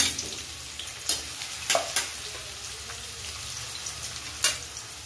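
Finely chopped onion fries in a pan for a mixed vegetable dish, giving a continuous soft sizzle broken by several sharp scrapes and clinks of a spoon stirring, close by and with no voices.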